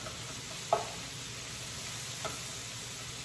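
Chopped white onion and garlic sizzle steadily in a pan for a pasta Bolognese, a constant soft frying hiss with two faint clicks of stirring.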